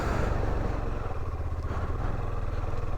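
Near, steady motorcycle engine throb at Jispa in Ladakh as a ride toward Zanskar begins, a low rumbling idle with a slight rise midway and no talk.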